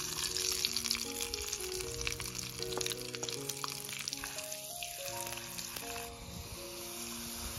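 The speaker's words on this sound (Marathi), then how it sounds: "त्यांचं तेल तापलंय, त्यामध्ये मी जिरे आणि लसूण याची फोडणी देणार आहे आता" Steady, loud sizzling of cumin and garlic frying in hot oil for tempering, a continuous crackling hiss with scattered pops, close up and without any talking.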